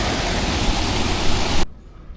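A waterfall beside an old guest house roars as a loud, steady wash of rushing water, filling the air close by before cutting off abruptly.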